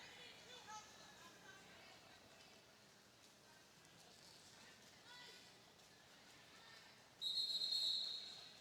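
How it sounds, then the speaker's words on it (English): A referee blows a burst of sharp, piercing whistle blasts near the end of a roller derby bout, loud over a steady murmur of crowd and arena noise. "the 4 whistles to me sounds like we have another official timeout"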